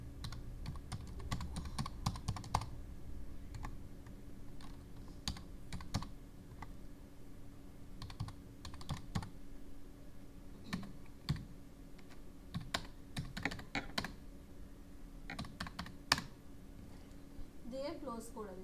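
Typing on a computer keyboard, irregular clusters of sharp key clicks close to the microphone, spread through the whole span under someone speaking Bengali.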